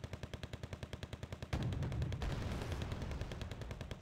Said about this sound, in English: there are Proletary 90 shooting at my Leclerc